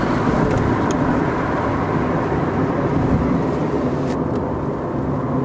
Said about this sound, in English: Here we are, we're zooming down the road